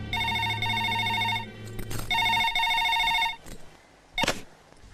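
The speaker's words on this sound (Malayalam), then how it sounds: "എങ്കിൽ ആ ഫോൺ എടുത്ത് കറക്കടാവേ" A telephone handset in a scene from a Malayalam film rings after a number is dialed, with several loud, sustained electronic ring bursts separated by short pauses and a clunk near the end.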